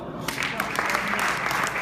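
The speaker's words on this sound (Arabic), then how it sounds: "صفقوا هذا أخو نوره." Guests at a wedding poetry recital clap together in a brisk burst of applause, steady and fairly close, with voices mingled in.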